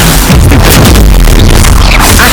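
Incendio fire spell in the Hogwarts Legacy game, a loud roaring blast of flame with crackling bursts, heavily saturated and continuous across the short moment, mixed with combat noise.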